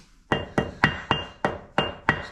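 A wooden hammer taps a level set on a milling machine table, giving seven sharp, evenly spaced knocks in a steady rhythm, close and distinct, with no talking.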